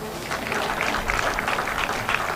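Sustained applause from an audience at a power project launch ceremony, honouring a minister, a dense steady clapping that holds at an even level throughout.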